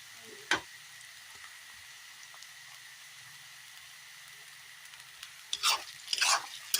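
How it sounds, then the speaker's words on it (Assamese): Onion, ginger and garlic frying in oil for a jackfruit curry, a soft steady sizzle with a sharp tap near the start and louder stirring scrapes toward the end. "পিঁয়াজখিনি অলপ ভাজি লৈছোঁ আৰু এই আদা নহৰুখিনি তেলত দি দিছোঁ।"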